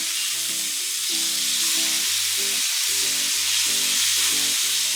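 Chicken for shawarma sizzles steadily in a pan over a medium flame, a dense continuous frying hiss with music playing underneath and no talk.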